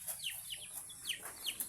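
A frightened chicken clucks and squawks in a quick run of sharp, rising calls, close by and fairly loud, with faint farmyard background and no talking.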